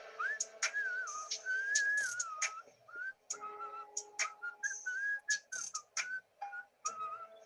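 A person whistles a quick melody through a speaker, with bright sliding notes broken by short sharp clicks and pops, clear and fairly close, with no talk over it.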